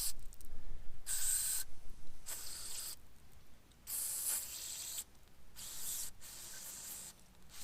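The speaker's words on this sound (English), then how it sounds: "Spray down all these holes." Carb cleaner from an aerosol can sprayed into holes on a BMW N52/N54 engine: about six sharp, hissing bursts separated by short pauses, close to the microphone with no talk.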